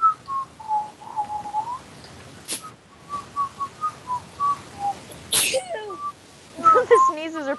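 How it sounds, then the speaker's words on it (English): Two sharp, loud sneezes burst out amid breathy whistling and cooing murmurs, the first around the middle and the second a few seconds later, each a brief explosive blast close to the mic. "sneezes are perfectly timed."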